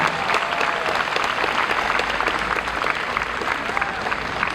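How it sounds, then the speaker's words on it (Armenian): At a university graduation ceremony, an audience applauds medal-winning graduates with steady, dense clapping that carries through the whole stretch, with faint voices mixed in. "Խնդրում եմ ծափարություններով շնորհավոր ենք բոլորին։"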